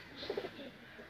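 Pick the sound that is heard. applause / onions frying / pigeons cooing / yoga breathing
pigeons cooing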